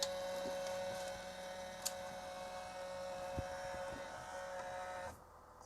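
Rear cooling fan of an EZT M18 3D printer whirs with a steady droning hum and a few faint clicks, running continuously at close range before cutting out sharply near the end.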